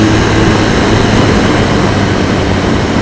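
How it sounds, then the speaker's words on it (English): A dirt-road motorcycle engine runs with a steady, loud, droning exhaust note, a constant heavy rumble close to the microphone with no talking. "This engine sounds good. It's not the best sounding engine, but it sounds really good. The exhaust note is nice."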